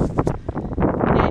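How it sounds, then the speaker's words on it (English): Gusting wind buffets a microphone outdoors in San Francisco, a loud, close rumbling roar that swells and dips unevenly over a brief moment. "Very windy, if you can't hear me, I'm sorry."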